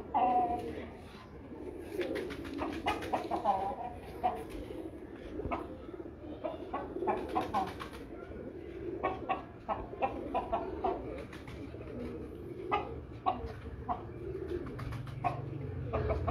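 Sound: pigeons cooing

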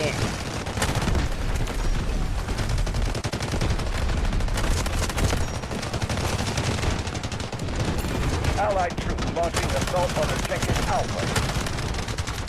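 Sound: SG552 rifle gunfire in video game Delta Force

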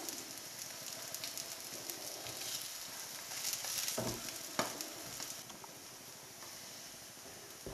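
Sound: egg frying in a pan for spam and egg sandwich

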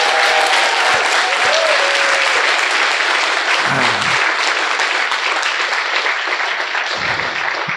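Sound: audience applause for school directors

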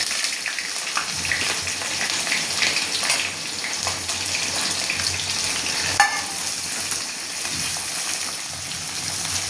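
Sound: onions frying in pan

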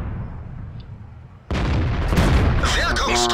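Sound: tank cannon shot in World of Tanks video game

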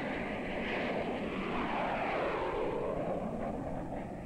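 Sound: jet airliner engines

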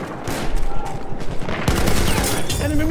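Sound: machine gun fire in Battlefield 1 video game

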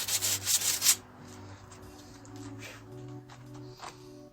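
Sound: brushing dust off sanded wood

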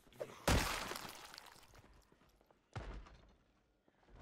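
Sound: zombie breaking a door in the video game Project Zomboid

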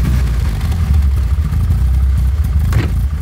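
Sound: Opel Rekord engine starting, exhaust sound

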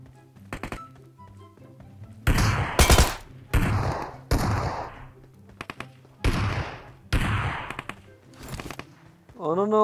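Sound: gunfire in PUBG Metro Royale video game

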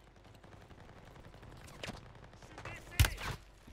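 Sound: gunfire in a video game

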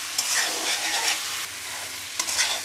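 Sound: stirring rohu fish curry with bitter gourd and potato in pan

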